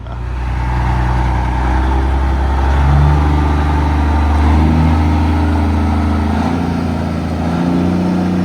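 A loud, deep truck engine rumbles steadily through heavy exhaust, its low throb swelling slightly at times.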